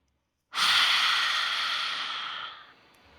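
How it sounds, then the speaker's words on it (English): A single long, deep breath released as an audible sigh during a guided meditation, airy and close, steady for about two seconds before fading out. "Take a deep inhale through your nostrils and exhale out of your mouth with a big sigh."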